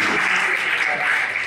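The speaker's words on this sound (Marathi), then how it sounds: "गणेशसाठी एक जोरदार टाळ्या द्या" Audience of students clapping for a student named Ganesh at a budget talk, a short dense burst of applause with voices mixed in.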